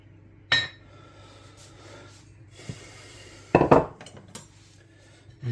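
A metal palette knife handles pastry for an individual rhubarb pie, with a few sharp clinks and scrapes against a dish, the longest cluster in the second half, separated by quiet pauses.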